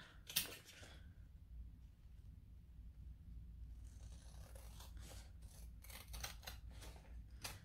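Scissors trim fabric right next to stitches on a sewn carrier, giving a faint, close sequence of quiet snips and scraping cuts, clustered more densely toward the end, against a low room hum.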